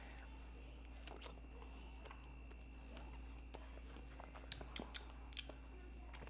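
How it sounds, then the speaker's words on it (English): Close, quiet chewing of ripe Asunta 5 Paco dragon fruit, with soft wet bites and a few faint crunchy clicks over a low steady hum. "as you keep chewing and the flesh kind of like disintegrates in your mouth"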